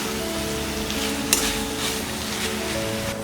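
Paneer bhurji, scrambled Indian cottage cheese, frying in a pan over a low flame, giving a steady soft sizzle with occasional scrapes and clinks of a stirring spoon, one sharper knock near the middle, no voices.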